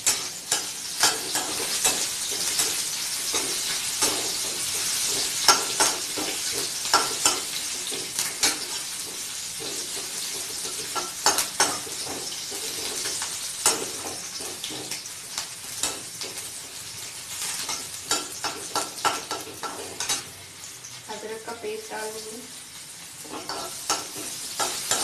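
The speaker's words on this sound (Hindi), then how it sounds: "अच्छा गोल्डन ब्राउन होने के लिए इसमें मिर्च डाल देंगे।" Chilies fry in hot oil for a potato and pea kachori filling, with a steady sizzle under repeated scraping strokes of a spoon stirring the pan, close and continuous throughout.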